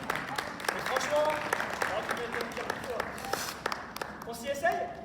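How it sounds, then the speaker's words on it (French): An audience at a practical workshop applauds in scattered claps that rise and fall, while voices speak over and between the clapping. "vous pouvez l'applaudir."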